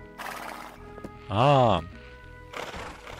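Horse in the farming game My Time at Portia gives one loud whinny with a rising and falling pitch, close and clear, with brief speech and soft game sounds around it.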